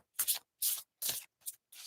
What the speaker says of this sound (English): This deck is really easy to shuffle too.